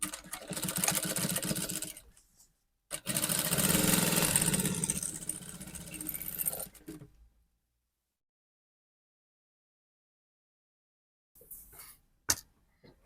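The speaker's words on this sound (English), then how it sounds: "So the next thing we are going to do now is to go and sew it." Sewing machine stitching a dart on the front of a flared dress, two bursts of steady close mechanical whirring, the first about two seconds and the second around four, then silence before a few faint handling clicks.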